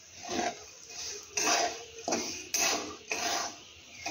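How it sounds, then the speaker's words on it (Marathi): Salted peanuts being stirred in a pan over a medium flame give off repeated scraping, rattling sweeps, about one every half second to second, moderately loud and close. "आता आपण मीडियम फ्लेमवर कंटिन्युअस हे शेंगदाणे हलवत"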